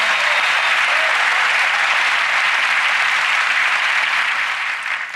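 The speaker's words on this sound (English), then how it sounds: "A round of applause as she retakes her seat" Studio audience applause on a magic-show stage, a dense, loud and even roar of clapping that carries on alone and fades slightly at the end.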